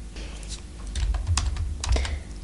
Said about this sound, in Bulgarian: Няколко щракания по клавиатурата